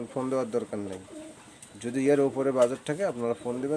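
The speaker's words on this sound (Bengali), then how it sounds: "সেই চুয়ার ব্লাড লাইনের কবুতর এই" Pigeons of a Chua bloodline coo in low, repeated calls beneath someone talking steadily throughout.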